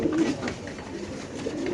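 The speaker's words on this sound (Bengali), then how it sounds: "সুস্থ সবল বড় সাইজের কবুতর" Large, healthy pigeons coo close by in soft, repeated low throaty calls that overlap across the short stretch, with no clear talking.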